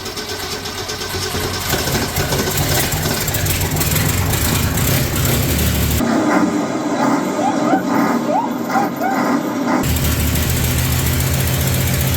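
A severely rusty 1965 Mercury Comet engine, not run in ten years, running steadily and loud, with a constant rough rumble that shifts in tone partway through, and someone talking briefly.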